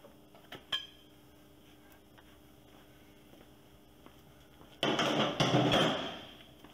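A hammer strikes a large punch set against a wheel hub bolt, a couple of light taps and then a few hard, ringing metallic blows close by, with no talk.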